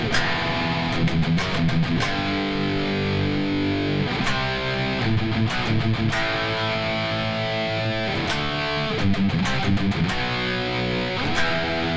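Distorted electric guitar plays a chorus riff, loud and continuous chugging power chords with sharp, rhythmic hits and brief muted gaps, no voices.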